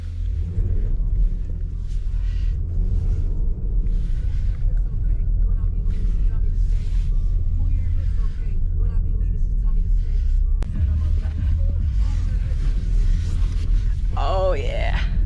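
A 2021 Jeep Grand Cherokee Trailhawk drives through deep snow, giving a steady, loud engine rumble and road noise heard from inside the cabin, with a short creak and rattle near the end.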